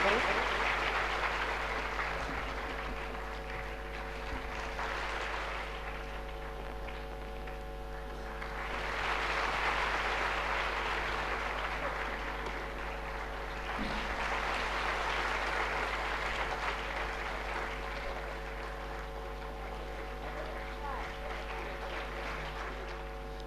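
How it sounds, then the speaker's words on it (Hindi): An audience gives loud applause honouring a family called onto the stage, with waves of sustained clapping rising and easing over a steady low hum, and some voices mixed in. "हम सब एक बार जोरदार तालियों से ये पूरे परिवार का सम्मान करें."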